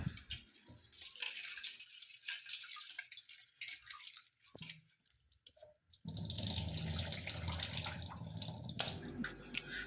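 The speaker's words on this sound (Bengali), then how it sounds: "আমি সাদা জল দিয়ে এটা 2-3 বার ধুয়ে নেব।" Chana dal rinsed in plain water in a bowl: faint swishing and trickling with brief pauses, then a louder, continuous stream of running water for the last few seconds.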